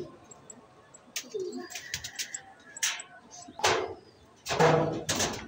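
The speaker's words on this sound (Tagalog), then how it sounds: "kompleto na yung mga ibon natin" Pigeons coo and other birds call in short bursts from a nearby loft, with a few louder flutters or knocks partway through and faint background noise between the calls.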